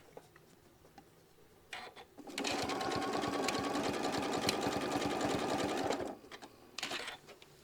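A sewing machine stitching in place on quilt binding, a steady close mechanical whirr lasting a few seconds between a few short starts and stops.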